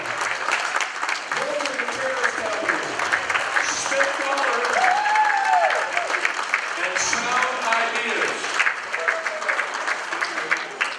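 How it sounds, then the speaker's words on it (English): An awards-night audience claps for sustaining business members, a sustained spread of applause with voices and cheers mixed in throughout. "Please join me in thanking our sustaining business members tonight. R&S Trucking, Moss Adams, enthusiastically applaud."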